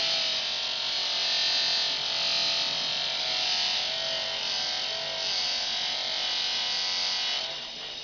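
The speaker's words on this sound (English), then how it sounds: "I'll just polish this half just to show the difference." A metal gear change lever is buffed on a polishing machine ahead of electroplating, giving a steady high-pitched whirring grind that holds evenly for several seconds before easing slightly at the end.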